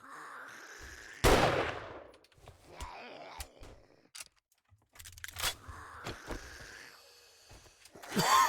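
Gunshots ring out in a Fortnite-style shooter: one loud crack near the start, then scattered lighter shots and impacts, with grunts and gasping effects in between and a burst at the end.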